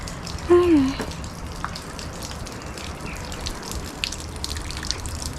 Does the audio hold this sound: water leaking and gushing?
yes